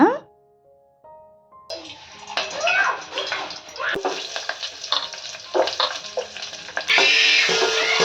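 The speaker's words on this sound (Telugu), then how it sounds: "ఇంకా డైరెక్ట్గా పోపు పెట్టేస్తాను" Loud hiss and crackle of a spice tempering for sambar hitting hot oil, sizzling steadily, with a spoon stirring and clinking against the pan.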